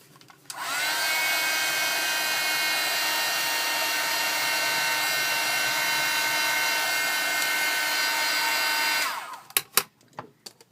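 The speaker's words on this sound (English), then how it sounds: "I'm going to dry this quickly." A hair dryer blowing on wet paint on an artist trading card: a steady, loud whirring blast that runs for about eight and a half seconds before switching off, followed by a few light clicks and handling knocks.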